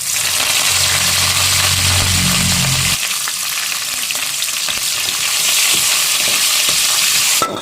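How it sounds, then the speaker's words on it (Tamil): Crushed garlic sizzles loudly in hot tempering oil, stirred continuously while a tempering for a kuzhambu is prepared for a Pongal festival meal, with a steady crackle that carries through the whole stretch and no voices. "தாளித்து ஊற்ற வேண்டியதான். பூண்டு, இடித்த பூண்டு செவரட்டும்."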